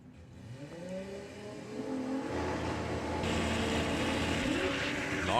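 A drag racing vehicle launches down the Santa Pod strip at a VW drag racing qualifying event, a rising engine roar that builds and grows louder over several seconds, with a distant second engine and no talk.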